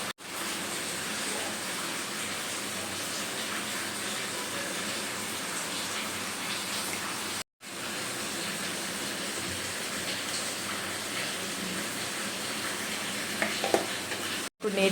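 Crispy corn tossed with salt and chili powder fills the pan with a close, continuous sizzle and rustling stir, a brief cut of silence midway and another near the end, with no talking.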